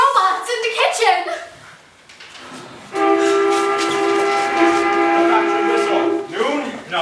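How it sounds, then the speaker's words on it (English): A factory whistle sound effect in a stage play, a sustained steady tonal blast lasting about three seconds, preceded by an actor speaking and followed by voices again. "The factory whistle."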